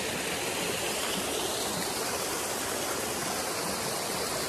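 Waterfall near Auw, Switzerland, a continuous broadband rush of falling water, steady and unbroken, heard from nearby with no voices.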